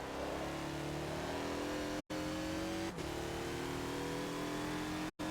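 A 2014 Mazda Lola B12/80 race car in Forza accelerates around VIR, its engine droning loud and steady with rising revs, cut briefly by two sharp gear-shift gaps.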